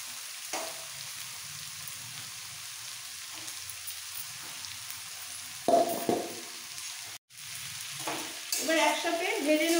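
Egg chowmein noodles stir-fry in a pan with a metal spatula, a soft sizzle broken by clattering scrapes and louder bursts of frying toward the end.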